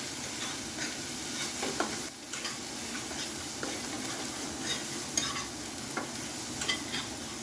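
Spice paste frying in a pan with a little water, a dense steady sizzle close by with faint stirring scrapes now and then throughout.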